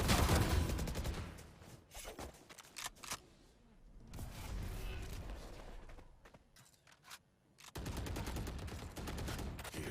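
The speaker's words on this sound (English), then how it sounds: "More bullets to go through the smoke over at C Long" Gunfire in the video game Valorant during a tournament match, with loud, dense bursts of rapid shots at the start and end and a quieter stretch of scattered shots and ambient game noise between them.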